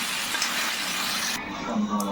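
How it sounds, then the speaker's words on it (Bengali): A catla fish head fries in hot oil in a pan, a steady close sizzle with faint stirring, with no talking. "এটা মাছে মাথাটাকে ভাজা হোক"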